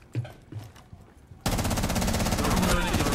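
Rapid automatic gunfire in Rainbow Six Siege erupts after a quieter opening with a few isolated shots, continuing loud and dense to the end.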